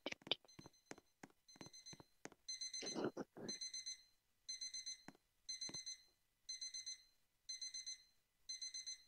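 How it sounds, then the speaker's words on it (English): An alarm clock rings in repeated electronic beeping bursts, about one per second, loud and close, after some clattering knocks and handling noises at a birthday party setup. "I'm gonna turn off that stupid alarm clock."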